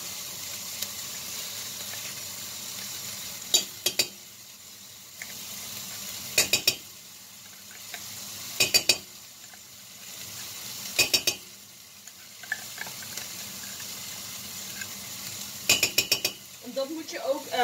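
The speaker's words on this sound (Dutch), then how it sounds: "Dat moet je ook goed bakken. Even goed meebakken." A steady sizzle of tomato puree frying in a pan for tomato soup, broken every few seconds by short scraping stirs, close by and without talk.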